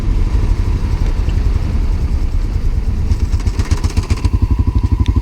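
A 1988 Honda Dominator motorcycle engine runs close by with a loud, steady single-cylinder thump that turns into a more distinct, pulsing chug toward the end.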